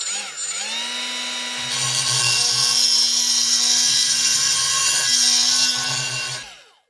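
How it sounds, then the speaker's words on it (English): A carbide burr grinds into the top mount slots of a 24-year-old Subaru WRX wagon, a loud, steady high-pitched whine that starts abruptly, holds for several seconds, then cuts off. "I'm going to take a carbide burr and I'm going to extend these top slots here"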